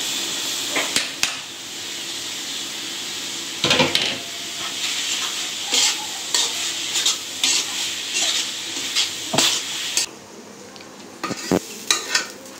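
Taro flowers go into a pan with fried shrimp, onion and chili, a steady sizzle punctuated by repeated scraping and clattering stirring strokes, close and fairly loud.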